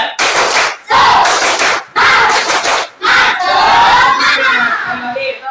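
A class of pupils chants and claps together in rhythmic bursts of shouting, a spirit-raising clap chant led in a classroom, loud and close, with short pauses between each burst of group voices.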